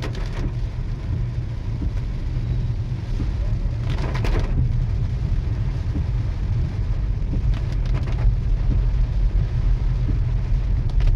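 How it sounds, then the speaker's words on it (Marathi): Heavy overnight rain falling steadily in Baramati, a dense continuous hiss with a low rumbling bed, loud and unbroken throughout, with a few brief brighter bursts of spatter. "रात्रभर पाऊस चालू आहे"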